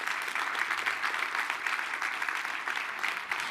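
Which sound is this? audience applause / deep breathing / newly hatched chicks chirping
audience applause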